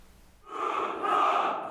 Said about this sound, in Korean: 육군 부사관학교 연병장이 우렁찬 함성과 함께 금빛 계급장으로 수놓아졌습니다.